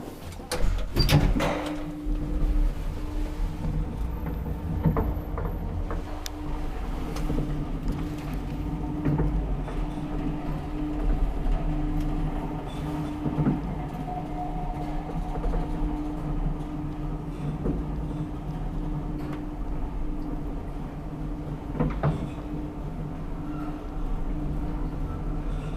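A 1959 Kone traction elevator in a Helsinki apartment building opens its doors with a clunk, then rides with a low, steady motor hum and rumble. Occasional clicks and thumps break the hum over roughly twenty-five seconds.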